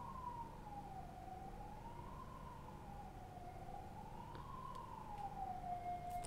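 A distant ambulance siren wails, slowly rising and falling in long sweeps over a low background hum of traffic.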